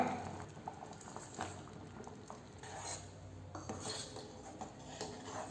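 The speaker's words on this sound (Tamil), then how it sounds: "இப்போ வந்து நம்ம வெல்லம் சேர்த்துக்கலாங்க" Jaggery dropped into moong dal simmering in a pan, with clinking utensil and pot sounds and soft stirring scrapes, steady and close, no voices.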